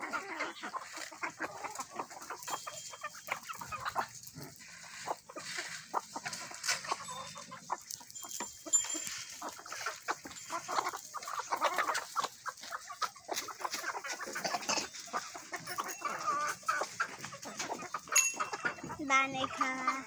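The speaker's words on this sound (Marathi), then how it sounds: "कोंबड्या जवळ आल्या तशा" Hens on a farm cluck continuously while pecking at corn kernels tossed to them, a dense close chorus of busy clucks and scratching, with voices talking intermittently in the background.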